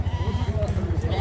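A roughly seven- to eight-month-old sheep bleats at a livestock sale in a village, heard close under a steady low hum and nearby voices.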